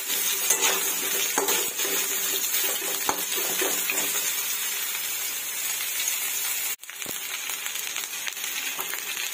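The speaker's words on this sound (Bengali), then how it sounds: "সয়াবিনগুলো দিয়ে মশলাটা দিয়ে কষাতে থাকবো।" Soybean chunks frying in oil with spices while being stirred, a steady close sizzle with scraping stir strokes throughout and one brief break near the end.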